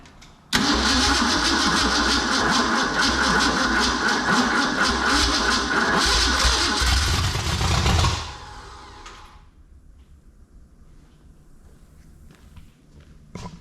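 A 1953 International IHC R-110 truck converted into a gasser roars loudly and steadily at high throttle for several seconds, then abruptly cuts off, leaving a faint low rumble and quiet handling noises.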